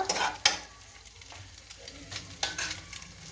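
A spatula scrapes and stirs egg fried rice in a hot pan, with a few sharp scraping strokes over a soft, faint sizzle, close and quiet.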